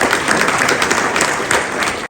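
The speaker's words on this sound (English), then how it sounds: "So really another round of applause for them" Loud, dense applause from the audience at a Vedanta Delhi Half Marathon event, with steady clapping that fills the whole stretch and then cuts off sharply at the end.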